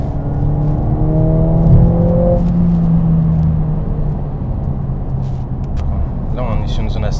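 A 2020 Mercedes-AMG A45 S accelerates hard on the road, a steady engine whir and rising tonal drone from inside the cabin, with people talking over it.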